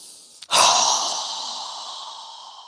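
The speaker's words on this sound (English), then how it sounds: "So go ahead and inhale." A single deep inhale during a yoga breathing exercise, a close, loud rush of air that starts abruptly and then trails off slowly over a couple of seconds, heard alone.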